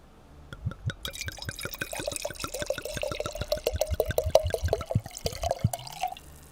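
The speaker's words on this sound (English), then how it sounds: "that's a mighty healthy pour I just gave you. You can hear the bubbles popping." A drink is poured into a glass close to the mic, a rapid run of crackling pops and fizzing bubbles that grows busier and louder before trailing off.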